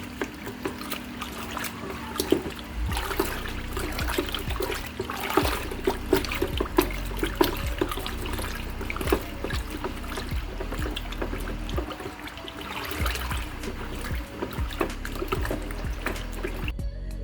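Powdered milk being stirred into water for yogurt, a continuous close sloshing and trickling swirl of liquid with scraping clatter, steady throughout.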